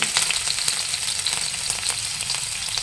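Ginger, green chili, garlic and curry leaves fry in hot oil for a Chinese-style fish dish, giving a steady close crackling sizzle with small popping bursts throughout and no voices.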